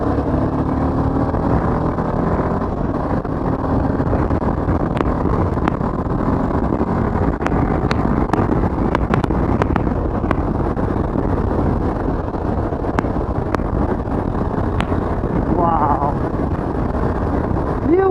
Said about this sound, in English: Open that throttle and you'll feel it, what this bike is capable of.